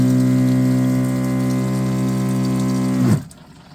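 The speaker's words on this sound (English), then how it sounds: "you can hear the water being dispensed inside the containers" A water pump dispensing into containers inside a camper built in a 2025 GMC Yukon XL drones loudly and steadily with a strong hum, then cuts off abruptly near the end.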